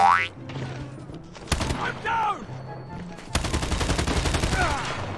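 HG40 submachine gun fire in Call of Duty Mobile's Domination mode comes as sharp automatic bursts, separated by gaps with game effects, while a player talks between them.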